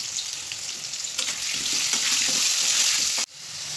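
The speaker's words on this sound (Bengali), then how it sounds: "আলুগুলো ভাজা হয়ে গেছে" Potatoes seasoned with salt and turmeric sizzle steadily in a hot pan in a home kitchen, a close, continuous frying hiss with faint stirring that cuts off abruptly near the end.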